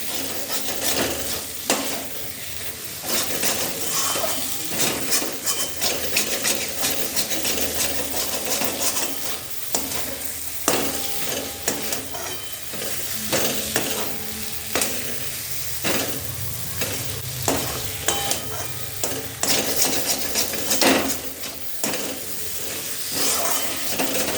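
Spiced pointed gourd being stirred and fried in oil in a wok: a steady close sizzle runs throughout, broken by repeated scraping strokes of the stirring spoon against the pan, with no talking.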